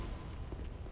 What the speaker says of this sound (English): Yeah, I know it's an explosion.